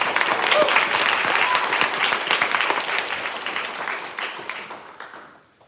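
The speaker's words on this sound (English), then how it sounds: "Please give him a big round of applause." Sustained applause from the audience at a university thesis festival session, dense and steady before fading out toward the end, with a brief murmur of voices mixed in.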